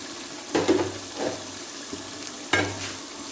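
Tomatoes with green and dried chillies fry in a pan while being stirred, a soft steady sizzle broken by a few scraping strokes of the spoon, close and fairly quiet.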